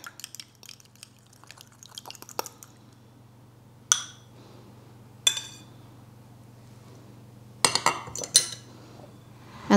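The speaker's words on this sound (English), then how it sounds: "And we have our egg that I will just beat up a little bit here." An egg is beaten in a bowl while making a keto meatloaf. Quick light clinks of a utensil against the bowl patter for a couple of seconds, then a few isolated louder knocks and clatters follow. No one speaks.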